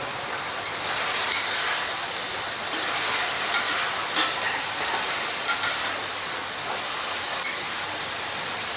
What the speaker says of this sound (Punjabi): ਹੁਣ ਅਸੀਂ ਇਹਦੇ ਵਿੱਚ ਬਤੌਂ ਪਾਵਾਂਗੇ ਇਹਨੂੰ ਚੰਗੀ ਤਰ੍ਹਾਂ ਹਿਲਾਵਾਂਗੇ